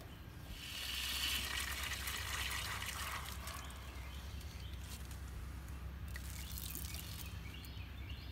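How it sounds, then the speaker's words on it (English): Water pours steadily into a bottle in a soft, continuous trickle, close by and quiet, with faint outdoor ambience underneath. "So I need to put some water in this one."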